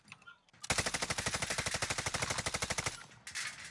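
Rapid automatic fire from a Bruen rifle in a first-person shooter video game: one sustained burst of about two seconds of evenly spaced, punchy shots, loud and close, with quieter game sounds before and after.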